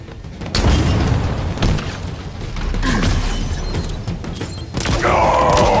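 A deep booming explosion from a relay being destroyed in the Halo Infinite video game, with heavy rumbling blasts and debris crackle filling the clip, loud and sustained with a synthetic tone near the end.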